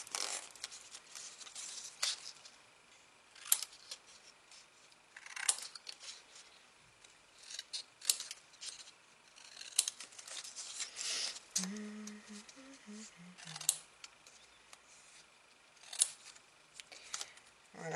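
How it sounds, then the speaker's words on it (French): Paper being cut with scissors while shaping bevels into a U-shaped paper structure, a scattered series of crisp snips and rustles at close range, quiet, with pauses between cuts and no talking. "Et là, on va venir découper, on va venir faire des biseaux"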